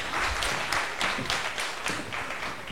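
Applause at a Guinean youth debate competition, a brief run of fairly sparse, distinct hand claps from a small audience, with no talking over it.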